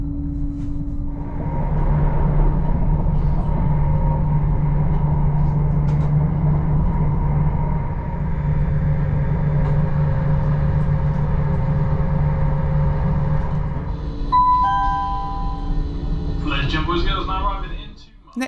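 A Greater Anglia Class 755 regional train running, a steady low rumble with a droning engine hum held for most of the run, then shifting tones and clatter near the end, loud and close as heard from on board.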